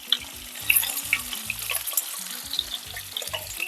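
Tomatoes sauté in oil with curry leaves and tamarind for a Hogenakkal-style fish curry, giving crackling, spattering pops over a watery bubbling bed and irregular stirring thumps, close and fairly loud.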